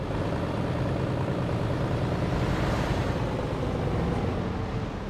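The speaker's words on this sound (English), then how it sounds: "What is that engine sound? That sounds nice." Truck engine sound in the TruckersMP driving game, a loud, steady, rumbling drone with a slightly crackly texture that holds evenly throughout without any speech.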